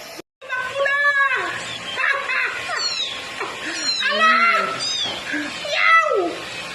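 High, wavering meows repeat in close succession, loud and near, mixed with excited human voices talking over them.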